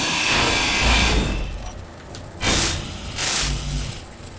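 Grinder cutting off ship blocks in the space-building game Space Engineers, a steady harsh whirring grind with bright metallic hiss, rising in two louder bursts near the end, close and alone.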